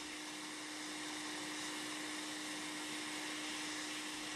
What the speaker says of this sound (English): If you have a heating station that maintains the airflow very well, then you can remove the component without applying flux.